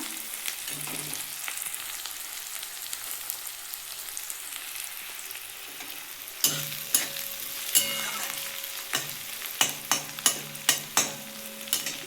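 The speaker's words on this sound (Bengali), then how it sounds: "আর একটু ভাজা হবে পেঁয়াজটা" Thinly chopped onions fry slowly in a pan with a soft, steady sizzle, broken in the second half by a series of sharp clinks and scrapes as the spatula stirs them.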